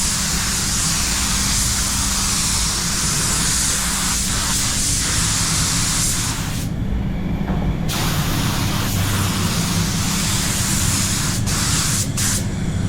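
A spray gun lays a closed coat of paint on a Mercedes-Benz van during an industrial respray, a loud, steady broadband hiss that runs almost unbroken, with a brief gap partway through before resuming.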